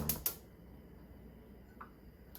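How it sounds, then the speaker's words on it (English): A gas stove igniter gives two sharp, quick clicks at the start, then a soft, steady hiss of burning gas in a quiet room. "So we start the stove on."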